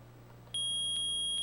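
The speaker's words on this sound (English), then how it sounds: "Oh, we got beeps." Beeping metal detector from the courtroom game Phoenix Wright: Ace Attorney, a steady high electronic tone that switches on abruptly and holds, with faint pulsing repeats, over a low quiet hum and no talk.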